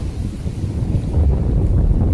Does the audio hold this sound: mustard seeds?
no